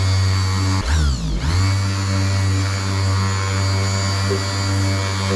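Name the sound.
orbital sander polishing a garage car panel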